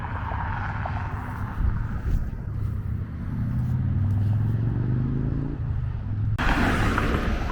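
Cars passing on a road in Tulsa, a steady low rumble of traffic rising and falling as vehicles go by, with a louder, closer pass near the end.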